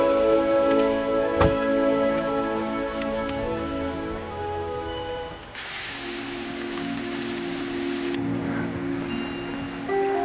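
Heavy rain pours steadily throughout as a broad, constant wash, with a brief sharp tap early on and changes in texture later, suggesting rain hitting different surfaces nearby.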